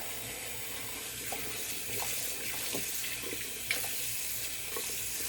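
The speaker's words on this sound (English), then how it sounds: "Cold water rinse." A bathroom tap runs cold water into a sink for a rinse after a wet shave, a soft, steady hiss of flowing water with a few faint splashes and no one speaking.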